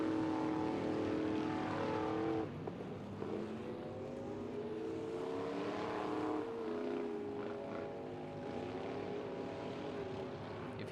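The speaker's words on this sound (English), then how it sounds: "2005 F250 with a 448 stroker under the hood, and he's taking no prisoners." A 2005 Ford F250 truck with a 448 stroker engine races uphill at a 4x4 truck racing event, its loud, sustained engine roar rising and falling in pitch as it shifts and pushes hard, heard from a moderate distance.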